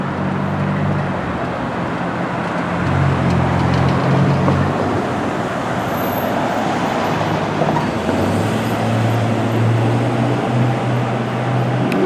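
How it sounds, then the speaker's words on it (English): Downtown street traffic rolls past in a historic small-town district, a steady low rumble of passing vehicles with engine drones swelling and fading, moderately near and continuous with no talking. "A bit of traffic noise here"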